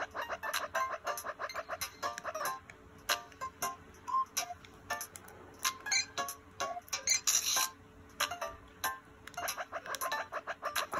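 A bird in a Playdate handheld video game gives short, bright chirps and clicky ticks in irregular bursts, repeating over several seconds against a quiet background.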